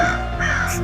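A crow gives a brief, loud, harsh caw or two, close up and alone, lasting under a second.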